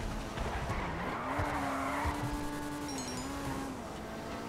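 Maibatsu Penumbra drifting in GTA Online: a sustained tire squeal and skid over steady engine drone, the screech rising and wavering through the slide, with faint game sounds in the background.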